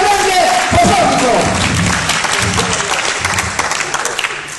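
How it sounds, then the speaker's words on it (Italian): A theatre audience in Sorrento breaks into loud applause, close and full at first with faint cheering mixed in, then gradually thinning into scattered clapping. "un applauso"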